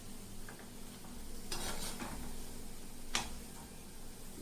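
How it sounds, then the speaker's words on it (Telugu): Wheat flour dough balls deep frying in hot oil, a faint steady sizzle with soft stirring clinks and a couple of brief louder scrapes, no voices. "ఒక్కొక్కటి వేసుకొని డీప్ ఫ్రై చేసుకుంటామండి"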